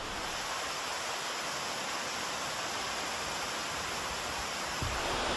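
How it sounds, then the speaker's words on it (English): Otter Falls pours in a steady broadband rush of falling water, a constant hiss heard alone and at a moderate level, with no talk. "This is Otter Falls."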